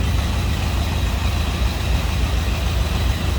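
A 1979 Ford Bronco 4x4 engine idles steadily, a deep continuous low rumble with even loudness throughout and no voices.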